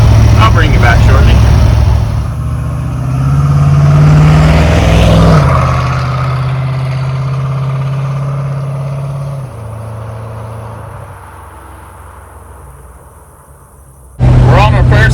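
Idling LS-swapped 1982 Chevy G20 van engine, a loud low rumble that holds steady for several seconds, then drops and fades before a sudden burst of sound near the end.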